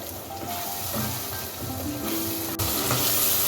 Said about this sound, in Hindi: अब इसको इसके साथ मिक्स कर लें और उस मसाले को भून लें।